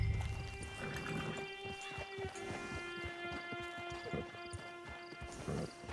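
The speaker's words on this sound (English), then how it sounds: "It's your horse." A horse in the video game Red Dead Redemption 2, with clip-clopping hooves and snorting and whinnying, moderately close under steady in-game ambience and a low musical drone, with no speech.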